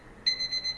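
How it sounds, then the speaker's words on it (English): A timer beeps rapidly in the background, a thin, high, evenly pulsing electronic tone heard faintly over quiet room noise. "I like the timer in the background"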